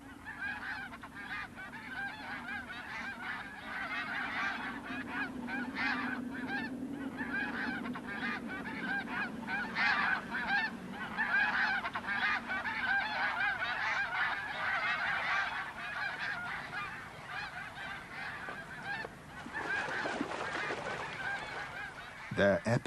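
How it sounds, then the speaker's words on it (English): Flocks of geese honk continuously across Arctic tundra, a dense chorus of overlapping calls at moderate distance, fairly faint overall. "The geese are a welcome sight and sound to the Arctic fox."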